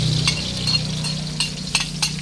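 Onions sautéing in a pan for a beef steak dish, giving a steady low sizzle with scattered clinks and scrapes of a utensil stirring against the metal, close and fairly loud, with no talking.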